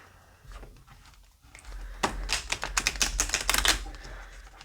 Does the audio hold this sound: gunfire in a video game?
no